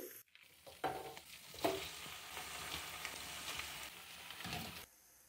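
Half a kilo of deeply scored chicken legs frying in a pan of garlic and ginger paste, with a continuous crackling sizzle broken by a few sharp stirring scrapes and clatters, close up and without voices.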